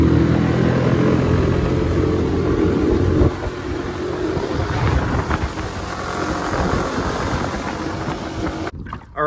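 A 6hp outboard motor drones loudly and steadily as it pushes a small microskiff into a headwind, the engine roar mixed with heavy wind buffeting before dropping away briefly near the end.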